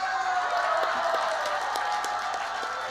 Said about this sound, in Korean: 다시 한번 목사님께 큰 박수 부탁드리겠습니다.